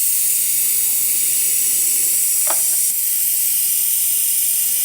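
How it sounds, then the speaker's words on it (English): A brake-fluid suction machine draws old fluid out of a vehicle's brake reservoir, giving a loud, steady, close hiss throughout, with a brief gurgle-like blip midway and no talking. "you get this machine, you get the hose in, and you put it in the bottom of your reservoir, pull the trigger"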